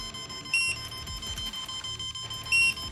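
Two short, high electronic beeps about two seconds apart, sharp and clear over a low steady hum and faint clatter: the brushless ESC alarm in a Radio Shack Sonic Thunder RC car.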